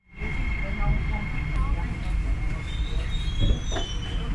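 A C151B MRT train runs in Singapore with a steady loud rumble inside the carriage and a thin wheel squeal above it, continuous for several seconds.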